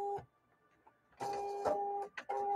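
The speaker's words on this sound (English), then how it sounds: "we are going to sew the sides together" A sewing machine stitches the side seams of a dress in short close bursts, its buzzing hum starting and stopping in three runs with quiet pauses between.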